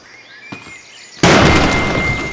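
A grenade blast in the ragdoll sandbox game Gorebox: a quiet lead-in with a faint click, then one sudden loud explosion with a broad crackling burst that decays over the following second.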